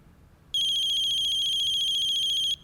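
A phone ringtone plays as a call is placed in an office scene of a Hindi TV comedy, a steady high electronic tone that starts abruptly and runs loud and alone for about two seconds before cutting off.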